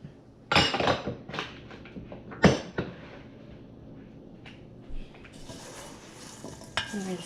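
Apple bar ingredients are mixed in a bowl with a utensil, giving a few loud clanks and scrapes, then quieter stirring and rustling.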